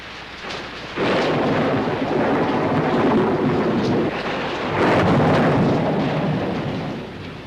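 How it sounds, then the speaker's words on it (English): Thunderstorm sound effect for a stormy night on the Texas plains: steady heavy rain with rolling thunder that swells loudly around the second and fifth seconds, continuous and close with no voices. "A stormy night on the Texas plains."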